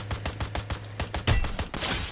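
Rapid gunfire from a shooting video game: a burst of about a dozen sharp shots in quick, steady rhythm, loud and close, with no talk over it.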